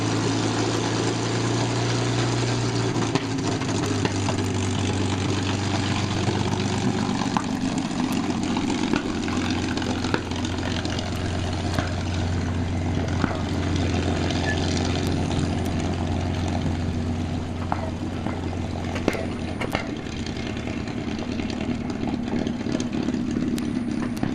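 P-51 Mustang engine run up with power added for a brake test, a loud continuous propeller drone and deep engine rumble that holds steady throughout, heard from inside the cockpit with no talk.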